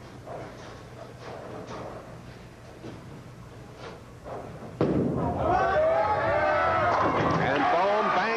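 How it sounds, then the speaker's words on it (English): A bowling ball rolls down the lane with low rumbling, then crashes into the pins for a strike at a 1988 professional tournament. A sudden loud clatter is followed by sustained rattling of scattering pins amid arena noise and voices. "And Bone bangs them down again."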